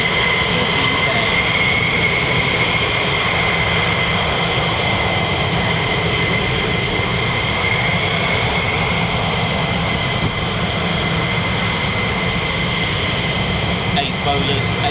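USAF F-15E Strike Eagle fighter jets of the 492nd Fighter Squadron, 48th Fighter Wing, at RAF Lakenheath give off a loud, continuous engine roar with a high whine that holds steady throughout.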